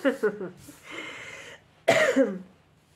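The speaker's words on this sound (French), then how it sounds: "Je suis vraiment désolée de tousser." A woman coughs several times in quick bursts, then pauses and lets out a louder cough followed by a couple more, close by.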